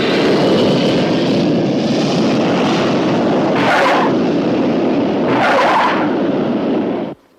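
A propeller airliner lands at an airport with a loud, sustained engine roar close by, marked by two brief swelling hisses before it cuts off abruptly.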